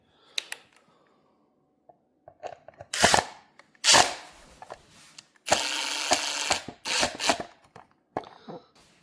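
A screw fed through the bottom of a mount and driven in with a ratcheting tool, bursts of fast clicking close by, separated by short gaps and quieter handling noises.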